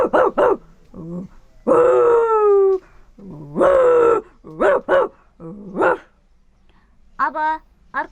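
A human voice imitates a dog barking, giving a close, loud series of yelping barks and a longer drawn-out howling bark in an irregular rhythm.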